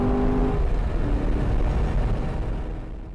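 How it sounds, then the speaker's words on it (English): A Corvette C7 Z51 drives on a race track, a loud close engine roar and road rumble heard from inside that stays steady, then eases and fades slightly at the end. "coming off my warm-up lap and getting into stride, I hit about 132 on the front straight"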